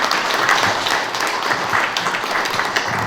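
A crowd gives warm applause at an art exhibition event, dense steady clapping filling the room with no voices over it.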